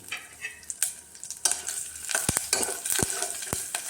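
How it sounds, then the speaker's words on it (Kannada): Sizzling oil with sharp, irregular pops and crackles of mustard seeds spluttering with chillies and curry leaves, growing busier partway through, with occasional stirring clinks. "ಇದೆಲ್ಲ ಸ್ವಲ್ಪ ಚಟಪಟ ಅಂತ ಸಿಡೀಲಿ"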